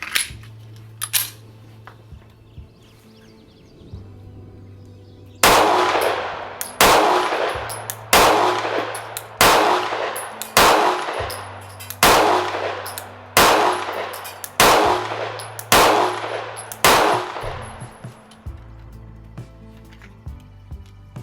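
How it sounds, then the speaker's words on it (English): Sig P365XL Spectre Comp pistol fired at an outdoor range: about a dozen loud, sharp reports in a steady, evenly spaced string, each ringing out briefly before the next, with no talking. "this is my first shots with the P365XL Spectre comp"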